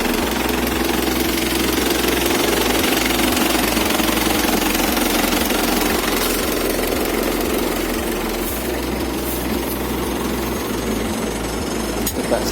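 Chevrolet LUV diesel pickup engine idles steadily and loudly up close, a continuous rough, knocking clatter with a pulsing low rumble that holds throughout.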